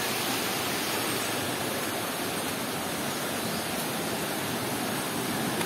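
Batya Batya Falls on Mt. Romelo, a waterfall in a rainy, mossy spot, roars steadily and loudly, with dense rushing water filling the whole stretch and no speech.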